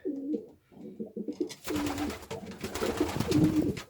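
Homing pigeons coo in a loft, with soft, repeated, close calls at the start and then more cooing under a rising, noisy background.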